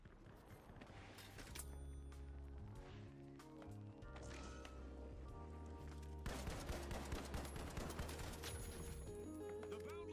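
Gunfire in a video game: rapid bursts and sustained volleys of shots over busy game sounds, loud and continuous, growing denser toward the end.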